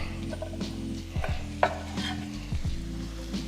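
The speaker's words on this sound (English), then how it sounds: "I'm gonna add this right now because I want to add a little bit of flavor from the onion" Onion stirred into shrimp and sausage rice in a hot pan, with a steady low frying hiss under intermittent scraping and clacking of a utensil against the cookware, close up and without speech.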